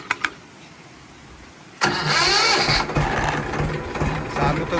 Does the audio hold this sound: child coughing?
no